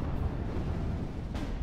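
Anti-tank gun firing in the World War II strategy game Steel Division Normandy 44: one heavy, booming blast with a deep rolling rumble that fills the short moment, loud and with no talking.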